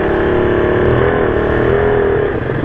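A car engine revs loudly and up close as the throttle is applied, a steady rising and falling roar with no talking over it.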